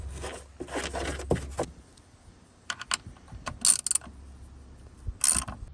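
A ratchet wrench breaks loose the bolts on a Bronco Raptor's Bimini top, making short bursts of close ratcheting clicks and mechanical rattles separated by quiet gaps.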